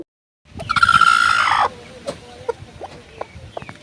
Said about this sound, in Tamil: கோழி நம்ம பக்கத்தில் போனாவோ இல்லாட்டி கோழியை தொட போனாவோ ஒரு மாதிரி சவுண்டு கொடுக்கும்